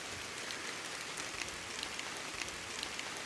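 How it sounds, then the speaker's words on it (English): Steady rain falls at a rural family graveyard with old tombstones in Stringtown, Kentucky, a dense even hiss of drops with scattered louder patters, close and continuous, with no voices. "it's starting to rain pretty good"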